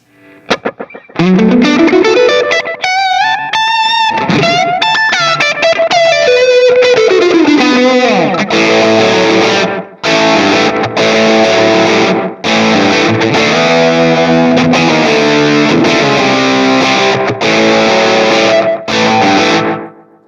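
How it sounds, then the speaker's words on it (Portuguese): An electric guitar played through an Analogman ARDX20 analog delay pedal set to a short, vintage-style slapback, slightly overdriven notes and chords with quick echo repeats trailing each phrase, loud and alone in bursts separated by brief pauses. "Vamos trabalhar com um delay mais curto para ficar mais vintage."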